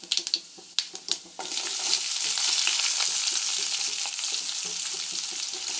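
Onions dropped into hot oil already popping with mustard and fennel seeds: a few sharp crackles and pops at first, then a sudden loud, steady sizzle that fills the rest, close up with faint stirring scrapes.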